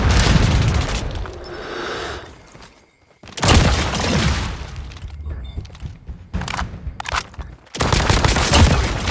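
Heavy JAK-12 automatic shotgun fire in Call of Duty Mobile, loud dense bursts of blasts separated by short gaps, the first stretch the longest, with fainter clicks and clatter in the pauses.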